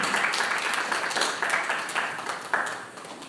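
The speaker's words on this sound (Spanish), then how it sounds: "Un aplauso al Señor" A church congregation claps in praise of the Lord. The applause is dense and steady at moderate volume, fading slightly toward the end, with no clear voices on top.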